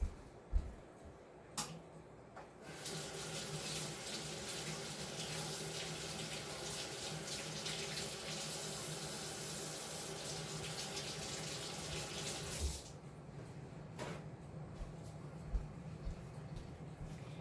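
A kitchen sink tap runs steadily for about ten seconds while hands dirtied with egg yolk are rinsed underneath, framed by quiet clicks and a few soft knocks before and after.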